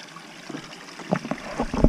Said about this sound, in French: Et là, il faut remplir les bouteilles.